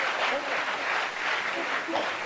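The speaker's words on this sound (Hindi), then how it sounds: "मैं चाहूंगा इसके लिए जोरदार ताली हो जाए," Audience applause at a network marketing talk, a moderate wash of clapping from a room of people, fairly even and somewhat distant, lasting the whole short stretch.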